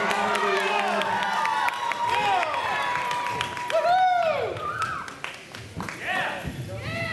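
A crowd at a robotics competition event cheers and claps for a robot team, loud and lively, with shouts and whoops rising over steady applause and voices talking.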